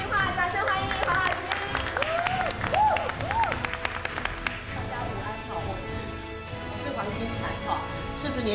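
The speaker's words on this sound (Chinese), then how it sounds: "掌声欢迎黄老师" Audience applause welcoming a speaker at a musical theatre production event, steady clapping with cheering and crowd chatter, plus a voice speaking over it early on, settling into even clapping later.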